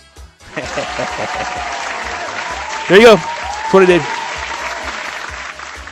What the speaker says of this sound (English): A little splash of applause. I like that one.